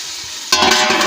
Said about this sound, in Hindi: अब इसको अच्छे से मिक्स करके और इसको ढक के छोड़ देंगे